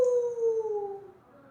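A person imitates a howl with one drawn-out, slowly falling wail that is close and fairly loud, then fades into quiet.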